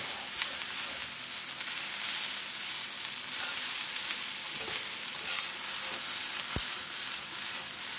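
Un-Chinese fried rice being stir-fried in a pan, a steady close sizzle and crackle of frying with occasional soft scrapes and clicks of stirring, no talking.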